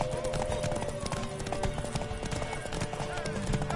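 Rhythmic clip-clop of horse hooves in The Witcher 3: Wild Hunt over a busy game soundscape with music and a voice, steady and continuous throughout.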